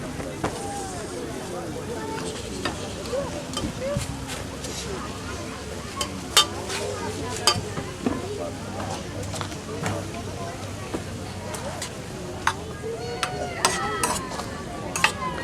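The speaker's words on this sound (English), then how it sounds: "Give it a little toss, and the nice juice from the squash is going to combine with the couscous" Squash dressed with apple cider, sage, butter and couscous is tossed in a pan, giving a soft sizzle and scraping stir sounds with occasional utensil clinks, beneath a chef's ongoing talk.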